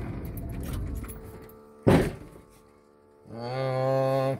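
A truck engine idles and then cuts off, followed by a sharp thunk of a door shutting as the driver gets out, then a steady tonal hum or chime rises after a short quiet gap.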